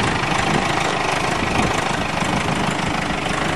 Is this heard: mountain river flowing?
no